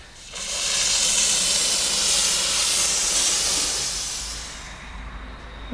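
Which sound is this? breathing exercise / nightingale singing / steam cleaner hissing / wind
steam cleaner hissing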